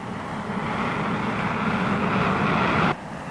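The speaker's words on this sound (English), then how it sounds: "its powerful kerosene-burning jet engine" A Lockheed P-80 Shooting Star's kerosene-burning jet engine roars steadily with a broad, loud whoosh that holds for about three seconds, then drops off sharply.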